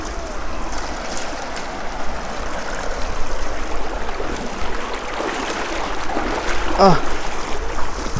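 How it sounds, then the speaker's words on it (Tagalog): Strong river current rushing at a scenic swimming spot in Minalungao, Nueva Ecija, a steady broadband wash of water close by, with a brief voice and splashing near the end. "Malakas yung agos eh."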